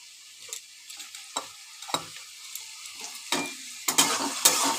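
Carrots frying in a pan for soy chunk chowmein, with a soft sizzle under repeated scrapes and stirring strokes that come at irregular intervals and grow busier toward the end.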